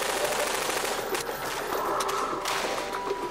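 Rapid gunfire in the shooter game Half-Life 2, a dense, continuous stream of shots with a few louder bursts, steady and fairly loud with no talking over it.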